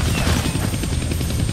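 A helicopter in a Deadpool video game battle, its steady rotor thrum loud and close, continuous throughout the short stretch with no talking.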